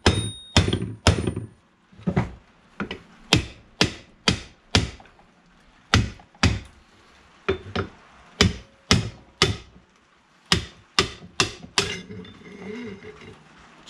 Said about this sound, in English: So we'll get our aluminium hammer, just hit this end off.